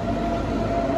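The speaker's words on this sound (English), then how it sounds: "we are catching the train to go from Deisenhofen to Holzkirchen" A train sounds at the railway station in Deisenhofen, with a loud, steady rolling rumble and a faint whine throughout the short stretch and no voices.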